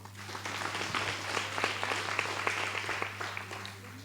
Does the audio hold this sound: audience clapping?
yes